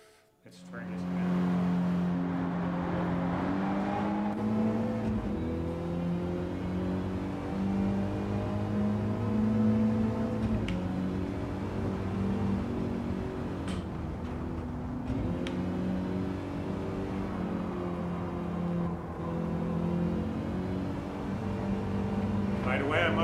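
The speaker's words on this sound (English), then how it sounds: "the sound of this car is really boring. Of course, it's just a regular consumer hatch." A regular consumer hatchback's engine drones steadily as it accelerates and shifts in Gran Turismo 7, its pitch rising and falling, with a person talking over it.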